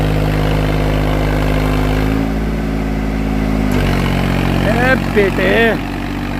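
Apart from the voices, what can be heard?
new Swaraj tractor engine revving in a field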